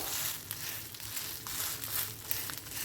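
A potato and carrot mixture flipped in a pan sizzles with a dense, steady frying hiss and occasional crackling pops, close and continuous with no talk.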